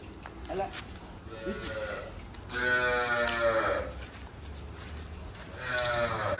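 A young calf lets out repeated loud bawling calls, close by, with a few brief voice sounds between them.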